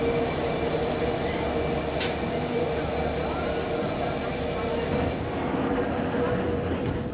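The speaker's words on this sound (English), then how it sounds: "The next train to arrive on platform 2 goes to Newcastle interchange." A train arriving at a platform at Newcastle interchange rolls loudly past at close range with a steady rumble, faint wheel squeal and clacking, continuing for several seconds without speech.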